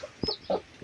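A brooding hen clucks softly in her nest, giving three short, low clucks spaced across under a second, close by with no talk.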